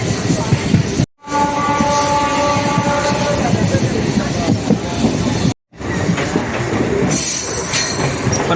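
Heard from on board, a main-line electric multiple unit train runs between Karur and Trichy. Wheels rumble and clatter loudly and continuously, with a squeal rising at times, and the sound cuts out briefly twice.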